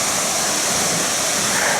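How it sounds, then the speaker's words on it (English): Steady broadband rush of La Salle Falls, a waterfall at Starved Rock State Park in spring, heard as a constant roar of falling water at a moderate distance with no break or talk. "you can start to hear the fall in the distance."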